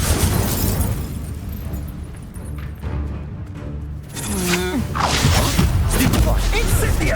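Incendio fire spell blasts in Hogwarts Legacy combat, a loud fiery burst with crackling debris amid rumbling battle effects, close and dense, with voices shouting over it.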